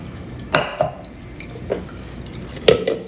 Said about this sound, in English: So we're straining the shallots from the oil.